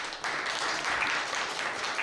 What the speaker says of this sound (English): please give a warm round of applause for Kim Crayton